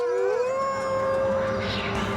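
A wolf howl rises in pitch and then holds a long, steady, clear tone with harmonics, sustained loud and close for about two seconds with some background noise.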